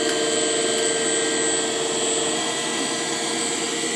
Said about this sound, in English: I said this is running at a real slow RPM, pretty close to 200 amps out of this thing